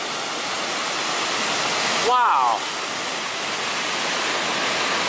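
Mountain water rushes along the Pacific Crest Trail near Mather and Muir Pass in a loud, constant roar, and a person speaks one short exclamation over it partway through.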